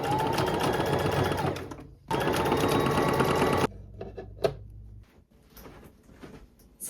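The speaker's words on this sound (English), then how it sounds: "now we're just going to attach this to the bottom here, and we're going to sew this all the way around" A sewing machine stitches trim around the bottom of a skirt, running in loud steady bursts with a brief pause, then stopping as quieter handling noises follow.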